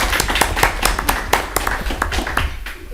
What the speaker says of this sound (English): one more round of applause for our great team